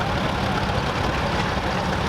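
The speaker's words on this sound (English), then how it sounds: "Fordson E27N three-wheel row crop tractor, owned by Peter Timms from Middlesex." A 1947 Fordson E27N three-wheel row crop tractor engine runs steadily and close at an outdoor steam fair, a dense continuous rumble with no voices.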